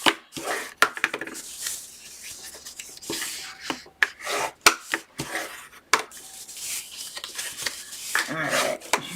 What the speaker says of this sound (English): we're almost done varnishing